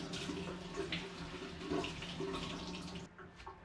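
Soaked glass noodles rinsed under a running kitchen tap, a steady close splashing flow of water that continues throughout and thins briefly near the end.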